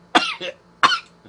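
A person gives two short, harsh coughs about half a second apart, close and fairly loud, each with a brief rasping tail and quiet in between.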